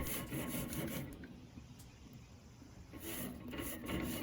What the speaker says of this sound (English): now we're just going to scrape off any of the residue, anything that's sitting on those grates